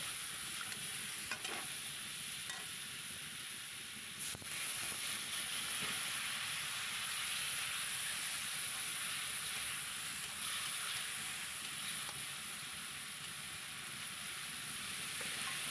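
Potatoes seasoned with salt and turmeric frying in a pan for a Pabda fish dish, a steady soft hiss and sizzle running throughout with a few faint stirring clinks and no talking.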